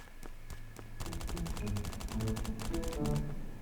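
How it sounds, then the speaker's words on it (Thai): Rapid bursts of gunfire from the survival video game Last Island of Survival, with sharp repeated shots crackling over a steady background; a voice talks over the shooting. "มันยิงกันแล้วครับ"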